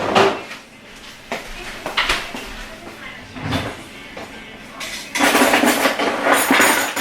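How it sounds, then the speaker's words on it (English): Kitchen clatter as a spoon is grabbed while making stuffed chicken breast: scattered clinks and knocks of utensils and a drawer, then a louder rustling, rattling stretch near the end, close by and in bursts. "I'm going to get a new spoon and taste it again."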